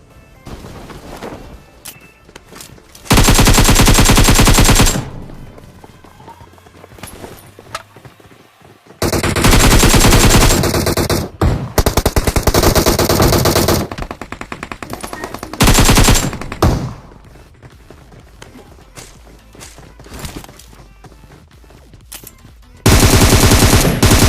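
Automatic gunfire in a battle royale game, with loud sustained machine-gun bursts lasting several seconds each, broken by quieter stretches of scattered shots and game noise.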